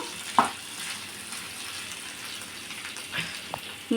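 Prawns frying in a pan for a homestyle prawn curry, giving a steady soft sizzle with a few brief stirring scrapes and clinks, close by and fairly quiet.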